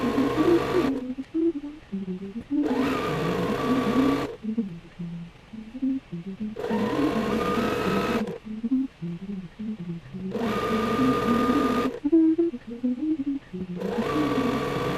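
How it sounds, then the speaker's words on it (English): A sewing machine stitching a quilt seam runs in bursts of a few seconds each, stopping and starting again four times, with a steady close mechanical whir. "So I'm coming to the end of my first row of stitching."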